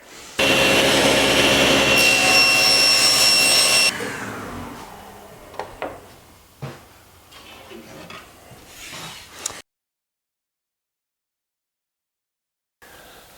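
A SawStop table saw cuts through plywood, a loud roaring burst lasting a few seconds, then the blade winds down amid scattered knocks and clatter before falling silent.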